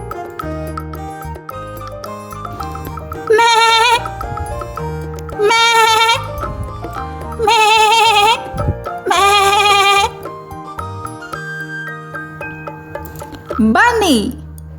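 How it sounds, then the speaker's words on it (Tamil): A sheep bleats repeatedly, four wavering calls in a steady rhythm over about ten seconds and then a shorter one near the end, close and clear above a low continuous background. "Sheep"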